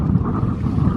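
Strong sea wind buffets a fishing launch at sea off Karachi. Loud, low, continuous rumbling gusts batter the microphone, with the churn of the boat and water underneath and no voices.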